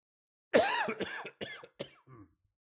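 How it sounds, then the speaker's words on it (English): A series of about five close coughs in quick succession, the first loudest and the rest tapering off, with silence around them. "The cough is an important part of the spell."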